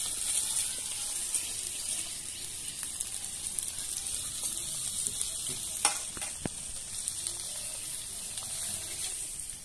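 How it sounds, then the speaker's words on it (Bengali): Potatoes fry in oil for a village-style posto potol recipe, with a steady close sizzle, scattered stirring clicks and a couple of sharp utensil knocks, no talking. "এইভাবে আলুটা ভাজতে হবে"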